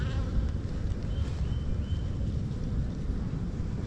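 Nurse bees swarm a brood frame in an opened hive, a dense, steady low buzzing that stays close and even throughout, with no talk.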